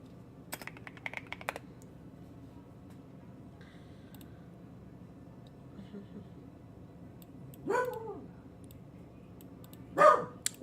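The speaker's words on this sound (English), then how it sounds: "Why are you barking?" A pet dog barks indoors during a tabletop game session, two short barks well apart over quiet background hum, with keyboard typing clicks early on.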